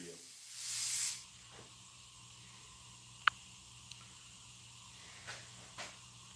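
A brief burst of carburetor cleaner sprayed from an aerosol can, a loud close hiss lasting about half a second, followed by a quiet room with a few faint clicks.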